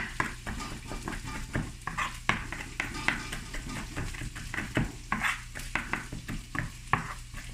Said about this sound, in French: je vais couper le piment rouge